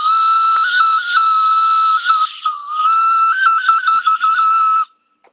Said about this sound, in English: that's the whistle